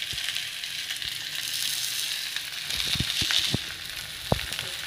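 Ragi and drumstick-leaf adai batter sizzles on a hot griddle, a steady soft hiss with a few sharp pops and crackles near the end, heard alone at low volume.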